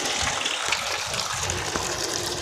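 Water pours steadily onto a freshly built masonry slab structure, a continuous close rushing splash with no breaks and no talking.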